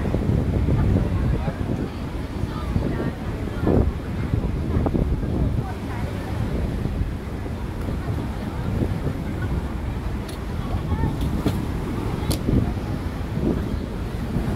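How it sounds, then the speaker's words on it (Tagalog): Strong wind buffets the microphone in a low roar, with rough sea waves churning underneath at East Coast Park beach, Singapore, and faint voices in the background. "mahangin at saka maalon. Maalon ngayon yung dagat nila dito sa East Coast Park, Singapore."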